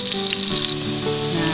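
A blended spice paste for soto Betawi sizzles loudly as it is sautéed in hot oil, a bright steady hiss with a few crackles.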